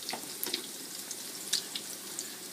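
Salmon cakes fry quietly in a pan on an electric stove, giving a faint, steady sizzle with light crackles and pops.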